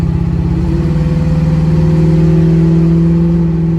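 A car engine drones loudly and steadily under light throttle, its low exhaust hum holding constant and close throughout.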